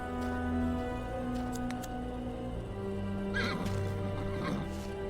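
A horse whinnies in a video game, a short neighing call over a steady, sustained game soundtrack, with no talk.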